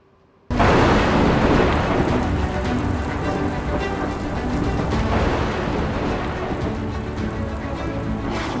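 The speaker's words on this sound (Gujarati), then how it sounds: "મુશળધાર વરસાદ શું હોય તે આ બંને જિલ્લાના રહેવાસીઓએ જાણી લીધું" Torrential monsoon rain in Saurashtra, Gujarat, pours down in a loud, dense, steady roar with heavy rumbling thunder mixed in. It starts suddenly after a brief quiet and then stays constant.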